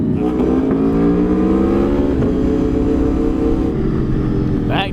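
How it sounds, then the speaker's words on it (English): A 2023 Aprilia Tuono V4 Factory motorcycle engine roars loudly and close as it downshifts, the revs dropping and then rising in stepped bursts with a brief rasp near the end. "Downshifting, it sounds like a giant going fee"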